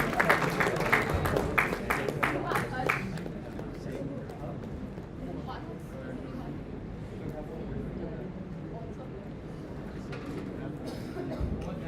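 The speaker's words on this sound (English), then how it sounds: "A big round of applause, please." A conference audience applauds a team being introduced, a burst of crisp clapping that starts strongly and then settles into a softer, murmuring crowd wash. A voice speaks over the start.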